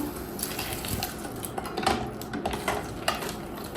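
A spoon scrapes and clinks around a metal pot while stirring hibiscus tea, in an irregular rhythm, with a soft background hiss throughout.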